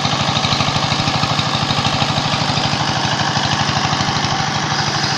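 A submersible pump machine's engine runs at a gold mining camp, its loud, steady rapid chugging pulse close by and continuous, with no voices over it.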